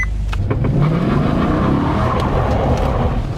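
A loud straight-piped Maserati Quattroporte S engine revs hard, its throaty roar rising and surging with sharp bursts, close by and with no voices.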